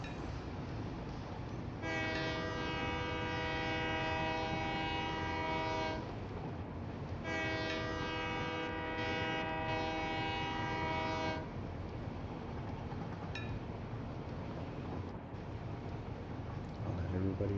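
A train running through a tunnel in Satisfactory sounds a long tonal horn in two extended blasts over a continuous rumbling rail drone.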